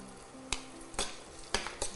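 Chopped large onions sizzling in a pan for meal maker gravy, with a few brief scraping stirs of a spoon punctuating the steady frying.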